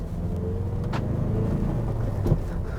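A 2022 Ford Bronco engine blips on its own to rev match, a low rumbling idle that swells briefly with small rises in pitch, close and steady under a faint cabin background.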